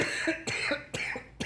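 A man coughing in three or four sharp, close bursts at a steady rhythm, each followed by a raspy tail.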